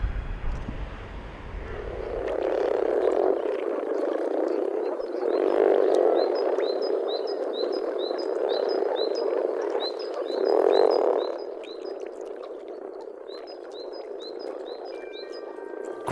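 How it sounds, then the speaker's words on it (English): A chorus of grass frogs at a shallow spring breeding pond gives a steady, dense low croaking throughout, swelling and fading in places, with faint high chirps repeating above it in the second half. "Grass frogs in temperate climates begin breeding as early as mid-March."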